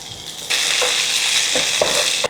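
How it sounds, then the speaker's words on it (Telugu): Two medium onions hit a hot tempering of cumin and crushed ginger in a pan and burst into loud, steady sizzling frying, with a few soft stirring clicks and no talk. "ఉల్లిపాయలు వేగుతుంటే ముందు ఒక హాఫ్ టీ స్పూన్ ఉప్పు వేస్తున్నాను"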